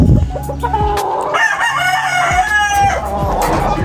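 A rooster crows up close, a long drawn-out call, with hens clucking around it.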